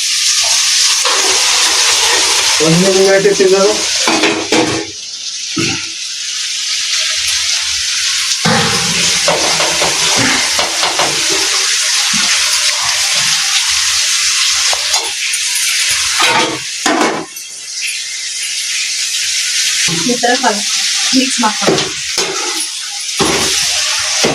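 Loud, steady sizzling of spices in hot oil, with bursts of crackle and occasional stirring clatter, continuing throughout with no talking.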